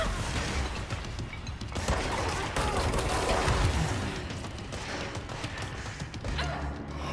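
Weapon fire and crashing impacts in the video game Control, a busy, loud mix of shots, mechanical clatter and thuds running continuously with a slightly heavier stretch midway.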